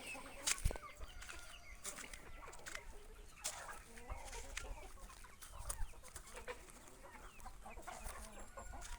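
A hen clucks in short, scattered calls at a farmyard where turkeys are kept, the sounds moderately close but fairly quiet over an outdoor background.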